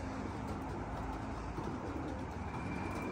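Pigeons coo softly near their loft, with steady low murmuring over constant outdoor background noise and no one speaking.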